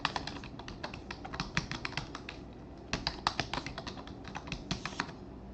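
Password being typed on a computer keyboard during a Windows Server 2022 DNS setup, heard as bursts of quick, close key clicks with short pauses between runs.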